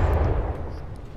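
An advanced cannon firing in the From The Depths video game, heard as a loud, heavy booming blast that decays into a rumbling tail with a faint pop later, alone without talk.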